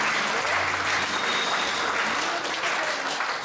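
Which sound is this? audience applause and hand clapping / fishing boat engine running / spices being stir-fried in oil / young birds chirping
audience applause and hand clapping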